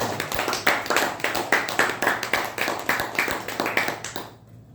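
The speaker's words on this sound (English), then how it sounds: "So big round of applause to everyone." A small group at a Toastmasters meeting claps in a light, rhythmic patter, individual hand claps audible in quick succession before fading out, recorded somewhat thinly as if through a call.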